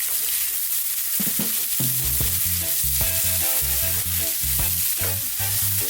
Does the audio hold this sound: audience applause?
no